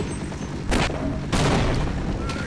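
Grenade explosions from a weapon's secondary fire in the co-op shooter Half-Life: Decay, two loud booming blasts about half a second apart over constant game rumble.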